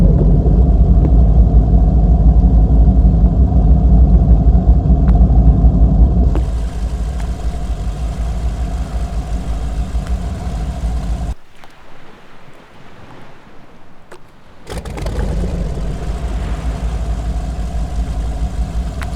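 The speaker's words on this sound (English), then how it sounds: "I'm going to show you now the sounds of the engine underwater and I think above water" An assault boat engine in the video game Arma 3 drones loudly and steadily, shifts to a thinner tone midway, drops to a muffled underwater hush for a few seconds, then returns at full strength.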